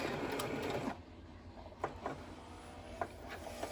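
A sewing machine stitches forward and back across a cable-tie-reinforced fabric face mask, faint short whirring runs separated by soft clicks and pauses.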